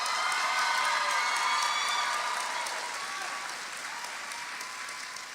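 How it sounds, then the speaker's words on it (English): Applause and scattered cheering fill the hall at a technical college commencement ceremony, a dense, steady clatter of many hands that slowly fades over several seconds. "Give your village a rousing round of applause."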